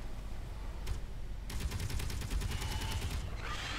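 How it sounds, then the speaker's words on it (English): Gun turrets fire in the space game Space Engineers: a fairly quiet, rapid burst of evenly spaced shots follows a single earlier shot, over a low mechanical rumble. "sounds to me like these turrets are working quite nicely"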